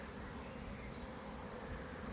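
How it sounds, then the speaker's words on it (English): A honey bee swarm clustered and hanging from a surface hums in a steady, dense drone of thousands of wings, faint and unbroken. "Get a few thousand bees just hanging off there."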